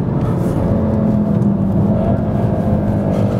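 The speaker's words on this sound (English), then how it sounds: "Also makes a great exhaust note." A 2015 VW Golf R rumbles along on the road, its exhaust note a steady, close, droning growl from inside the car with a slight rise in pitch, and no talking.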